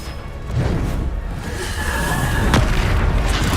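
A Bombarda blasting spell detonates in Hogwarts Legacy, producing a sharp, loud booming blast partway through over a continuous rumbling battle background.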